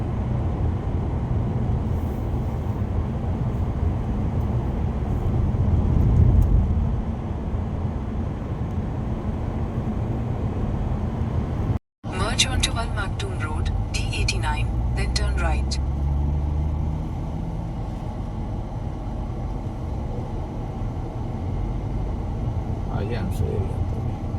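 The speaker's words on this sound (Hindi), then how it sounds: "शाम का टाइम है ना तो ट्रैफिक बहुत रहेगा इस टाइम" Evening road traffic heard from inside a moving car in heavy traffic, a constant engine and road rumble with a brief cutout, and people talking over it throughout.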